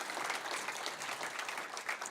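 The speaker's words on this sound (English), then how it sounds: "Let's hear one more big round of applause for all the founders here." Audience applause at a startup founders' pitch event in Boston, steady dense clapping from a crowd that fills the whole moment at moderate level with no talk over it.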